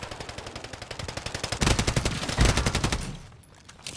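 Rapid automatic gunfire from an online shooter game on the Das Haus map, a continuous rhythmic burst of shots that swells louder midway then fades, with no talking over it.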